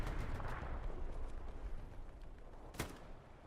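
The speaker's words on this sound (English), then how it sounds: "Bezin eats an Artie shell for launch" An artillery shell explodes in the Hell Let Loose shooter game during a Carentan tournament match, one sharp, loud blast near the end over a continuous roar of battlefield gunfire and rumble.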